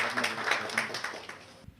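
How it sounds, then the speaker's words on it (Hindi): Summit audience applauding as guests are welcomed onto the stage, a brief burst of clapping that tapers off and ends abruptly. "जोरदार तालियां।"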